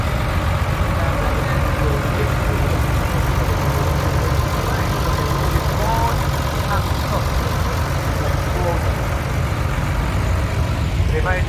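A Ford 7610 tractor idles steadily at an outdoor rally, its engine a continuous, fairly close rumble with no change in pace throughout, mixed with faint background sounds of the show ground.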